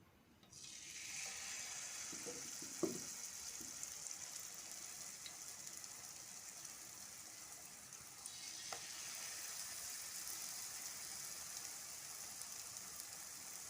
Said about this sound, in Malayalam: അപ്പോൾ ഓരോ പീസ് ബ്രെഡും നമ്മുടെ മാവിനകത്ത് മുക്കി നമുക്ക് പൊരിച്ചെടുക്കാം.